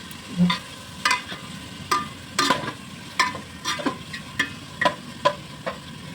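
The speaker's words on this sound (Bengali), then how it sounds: "তো চলো পেঁয়াজটা লাল করে ভেজে নিয়ে তারপর আসছি" Onions fry in a pan until browned for birista, with a soft sizzle under repeated sharp clinks and scrapes of a spatula stirring at an irregular rhythm.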